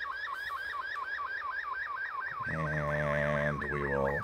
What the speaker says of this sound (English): really sounds like a shortwave radiogram